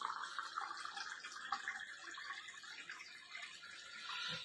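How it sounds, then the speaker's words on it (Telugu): Filtered water from a Vestige Sharp water purifier pours into a cup, a faint, steady trickling splash that tails off at the end. "సెకండ్ కప్పులో Vestige sharp water purifier the filter చేసిన వాటర్"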